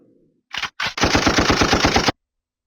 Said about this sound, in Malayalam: ഗൺഷൂട്ട് തോക്കിൻ്റെ സൗണ്ട് പുറപ്പെടുവിക്കും.